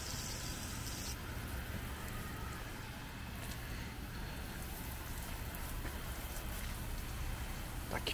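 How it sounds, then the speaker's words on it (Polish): Water gently rinsing over a car to spread sealant, a steady soft spray like light rain on the paintwork, continuous and even throughout with no talking. "Taki trzeba delikatny deszczyk zrobić i rozprowadzić ten sealant, niech on sobie spłynie."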